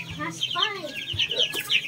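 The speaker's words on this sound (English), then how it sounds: "I'm gonna check the chicks here." Young chickens in a pullet pen cluck and peep close by, a busy overlapping run of short chirps and soft clucks from a small flock.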